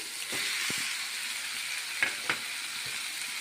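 Cut cucumber pieces go into a pan of softened, cooking tomatoes for a cucumber sesame chutney, and a continuous close sizzle follows, broken by a few soft knocks and stirring taps.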